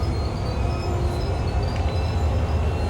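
Steady rumble of an SD40-2 diesel locomotive engine in Train Sim World 2 on Sherman Hill, a continuous low drone with rolling rail noise and faint high squeals, no voices.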